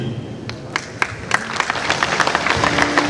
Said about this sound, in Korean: 뜨거운 경애의 박수 부탁드리겠습니다